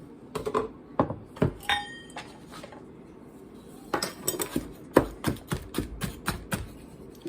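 Ingredients for a Coca-Cola chocolate cake are mixed in a bowl. A utensil clinks and taps against the sides, first in a few scattered knocks, then in a quicker, steady run of close, bright strikes.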